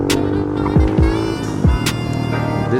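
Engine of an Icebear Champion 125cc minibike, a CT70/Dax clone, revving hard during a wheelie, loud and close, with a steady buzzing drone and a few quick rises in pitch.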